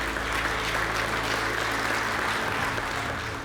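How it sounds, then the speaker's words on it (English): Members of a wine association, the Pinotage Association, give themselves a round of applause, a continuous dense burst of clapping filling the room. "Give yourselves a round of applause."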